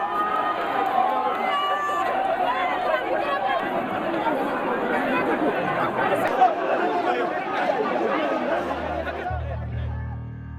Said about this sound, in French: La police tente tant bien que mal de maîtriser la foule.